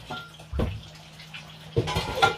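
Mixing ingredients with cinnamon in a dish while cooking a Sunday lunch: a few soft clinks and scrapes against the dish, quiet and close, spaced out with pauses between them.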